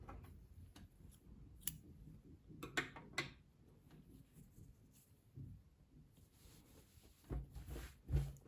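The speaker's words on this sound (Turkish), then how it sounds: "İpliği kesiyorum" Scissors snip through yarn at a crochet baby cardigan sleeve, a few faint, quiet clicks and cuts spread across the stretch, with no talking.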